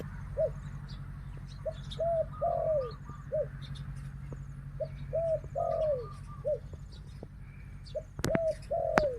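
A female spotted dove gives repeated cooing phrases in a steady rhythm, moderately close, over quiet outdoor ambience with occasional faint chirps.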